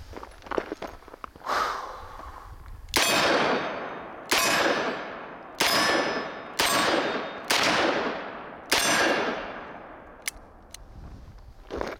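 A Smith & Wesson 586 Classic .357 Magnum revolver fired offhand at a steel target: five loud, sharp shots at a slow, even pace, each with a long ringing decay, followed by a couple of faint metallic pings.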